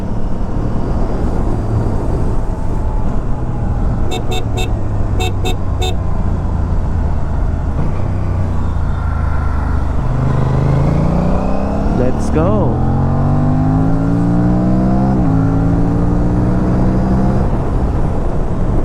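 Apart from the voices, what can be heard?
Aprilia RS 457 motorcycle exhaust and revving, DNA air filter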